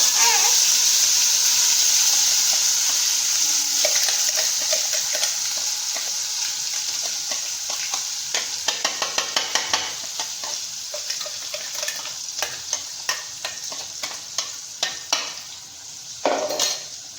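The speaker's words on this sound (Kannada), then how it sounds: "ಈಗ ಸ್ವಲ್ಪ ಇದು ಹಸಿ ವಾಸ ಹೋಗೋ ಮಟ್ಟ ತಿರುಗಾಡ್ಬೇಕ್ರಿ" Palak spinach gravy sizzles in a pan with a steady hiss while a spoon stirs through it, scraping strokes becoming more frequent and rhythmic toward the end.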